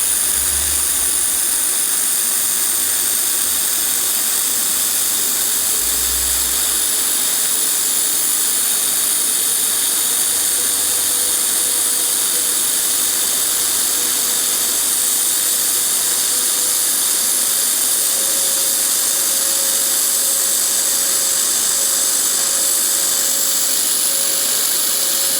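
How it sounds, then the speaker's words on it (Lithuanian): Laser welder working aluminium in pulse mode, giving a constant high-pitched hiss and whine with a faint rising tone, loud and unbroken throughout. "dar pasibandykime kitą pusę virinti su pulso režimu"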